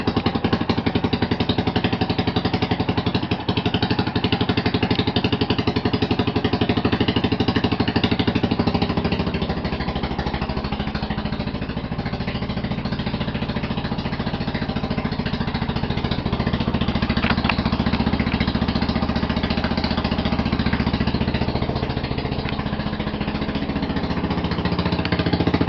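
An off-brand cruiser motorcycle engine cold-started without the choke idles loudly and continuously nearby, a dense rough rumble with a slight dip in pitch partway through.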